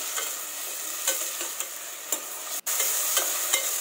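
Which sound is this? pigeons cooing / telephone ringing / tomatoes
tomatoes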